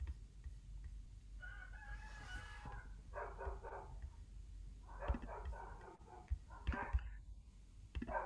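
Chickens and a rooster in a mountain setting, the rooster crowing near the start and hens clucking in bursts afterward, heard faintly at a distance in the background.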